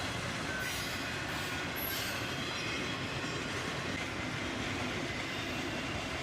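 A freight train rolls past close by, including CSX autorack cars in a new white paint scheme, giving a steady, loud rumble of wheels on rail with faint squeals throughout and no pauses.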